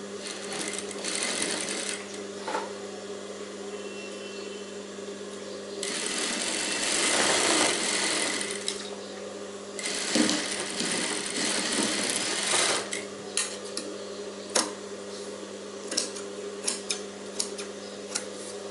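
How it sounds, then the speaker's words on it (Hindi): Domestic sewing machine stitching the side seams of a princess-cut blouse, with several bursts of whirring stitching separated by quieter pauses and scattered small clicks and snips. "ये दोनों साइड वैसे ही सिलाई लगा लेनी है"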